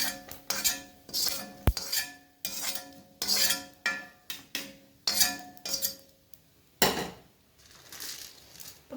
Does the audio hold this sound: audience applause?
no